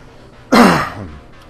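A single sharp cough or throat-clearing burst, loud and close, trailing off over about a second with no talking around it.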